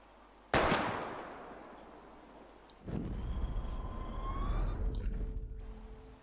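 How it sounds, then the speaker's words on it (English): Two sharp gunshots at bottles in the video game Life is Strange, each a loud crack with a long decaying tail, the second followed by rising tonal game sounds. "We're gonna shoot all these bottles without wasting a single bullet."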